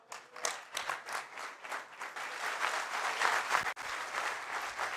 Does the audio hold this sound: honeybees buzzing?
no